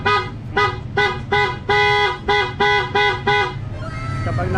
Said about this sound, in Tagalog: malakas na busina yung loud horn